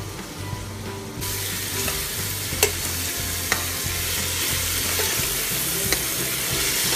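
Tomatoes sauté and get stirred in a hot pan for pork binagoongan. A steady, close sizzle runs throughout, with sharp scraping clicks from the utensil and a low rhythmic knocking underneath.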